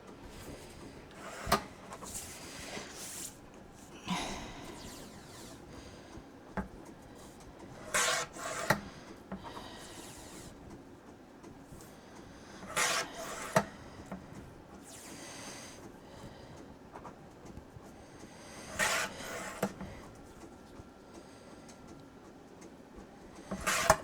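Red cardstock is trimmed into strips on a paper cutter, giving repeated short slicing and sliding sounds at intervals of a few seconds, close and fairly quiet against a still room.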